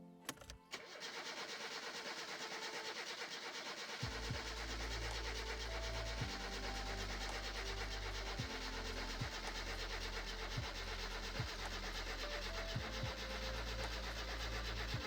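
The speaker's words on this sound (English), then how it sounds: "So, let's get in the driving mode here and start the car." A car engine in the video game My Summer Car cranks and catches after a few seconds, then settles into a steady idle with periodic low pulses, loud and close, no talking.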